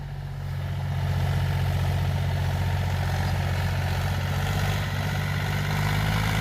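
A rebuilt Mahindra 265 DI tractor engine runs at a steady idle, a loud, constant low diesel throb with no break throughout.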